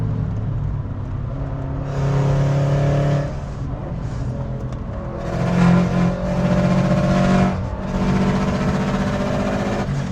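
A tuned Subaru Impreza WRX, all-wheel drive, pulls hard on power in third gear on a track, its engine a loud, continuous in-car roar that swells twice as revs climb, with no voices over it.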